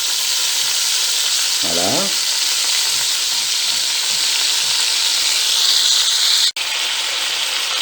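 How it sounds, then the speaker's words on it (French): Meat browns in hot oil in a pan, producing a loud, steady sizzle and crackle that fills the whole stretch, with a brief spoken word and a short clatter near the end. "il faut faire revenir la viande dans l'huile."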